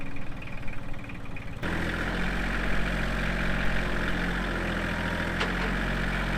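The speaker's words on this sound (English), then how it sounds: "I'm going to jump on the tractor real quick." A tractor engine runs steadily at idle, a low, continuous rumble that rises in level after the first second and a half and then holds constant and fairly close, with no voices.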